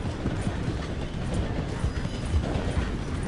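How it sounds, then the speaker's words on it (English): A steam train rolls slowly through a station in Red Dead Redemption 2, giving a steady, dense rumble with rhythmic clatter throughout and no voices. "The train is slowing down to go through the station."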